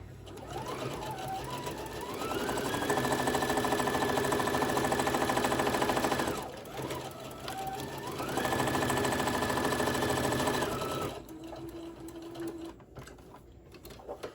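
A home sewing machine stitches the sides of a small rainbow mini tote bag in two long runs, the motor whirring steadily and rising in pitch as it speeds up, with a short pause between runs and quieter handling sounds at the end.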